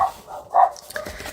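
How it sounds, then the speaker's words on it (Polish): A dog barks a few times in the background, fairly faint and distant, without talk over it. "sorry za psa w tle."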